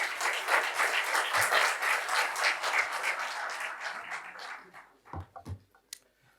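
A conference audience at a machine learning workshop bursts into loud sustained applause for a speaker taking the stage, fading into a few scattered claps at the end.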